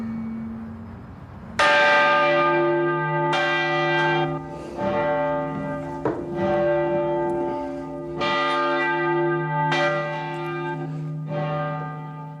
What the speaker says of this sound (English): rings two bells, one small, one large.